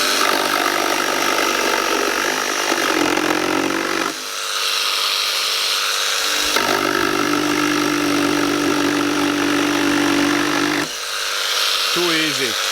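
Milwaukee M12 Fuel cordless jigsaw on oscillation setting 4 making a rough cut through framing pine, a steady close buzzing run broken by two short pauses, with someone talking over it.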